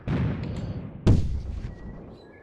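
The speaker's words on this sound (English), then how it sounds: "it's the frickin' mortars." Mortar fire in the Graviteam Tactics war game: two heavy booming blasts, the first rumbling on, the second sharper and louder about a second later, each trailing off into a low rumble.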